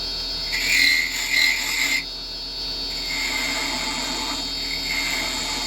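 Carbide chisel cutting wood while turning a clock on a lathe, a close, shrill screech in two short bursts, then a quieter steady hum from the spinning lathe with fainter scraping, no talking.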